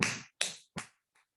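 Hand claps beating an even quaver rhythm in a beginner music fundamentals lesson: four sharp, close claps evenly spaced, the first three crisp and loud, the last much fainter, with no talking.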